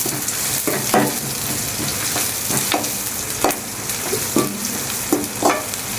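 Dried red chilies, curry leaves and small onions frying in oil for a duck fry, a loud steady sizzle punctuated by repeated spatula scrapes and knocks against the pan, no voices.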